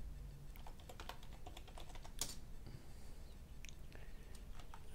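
A Linux terminal command being typed on a computer keyboard: quiet, rapid key clicks in an irregular run, close and soft with a slightly heavier keystroke midway.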